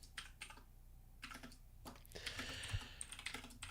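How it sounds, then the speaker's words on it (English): Fingers type on a computer keyboard in bursts of quick, fairly close clicks separated by short pauses, growing denser toward the end, with no talking. "Now it's back to typing shit up again."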